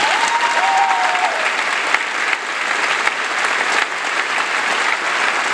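A crowd at Costa Rica's national children's folklore festival claps loudly and steadily for several seconds. A brief whistle-like tone rises over the applause near the start.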